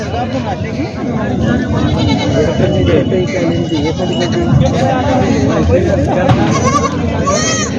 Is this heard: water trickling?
no